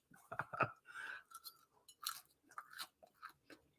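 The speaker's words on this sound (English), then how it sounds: "You heard a crunch?" Close crunching bites and chewing of spicy fried chicken with a crisp coating, a series of irregular wet crackles and snaps heard up close without talk.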